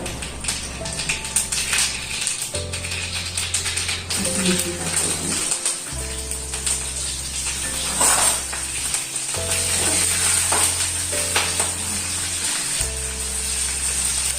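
Mustard seeds and cumin sizzling in hot oil for tempering, a crackling, popping sizzle over a low background hum that stops and restarts, with scattered sharp clicks throughout.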